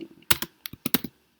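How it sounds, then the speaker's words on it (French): Someone types on a computer keyboard in a quiet room, with a short, uneven burst of crisp key clicks and taps heard up close with no talk. "vous cliquez à l'intérieur, vous effacez ce qu'il y a à l'intérieur et vous écrivez ce que vous voulez"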